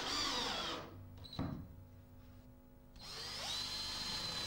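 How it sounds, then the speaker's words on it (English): A power drill with a Trend Snappy countersink bit and screwdriver bit whirs loudly driving screws into a chipboard floor, drops to a quieter stretch with a brief knock, then revs back up again. "using the snappy countersink bit to drill the hole and the screwdriver bit to complete each fixing"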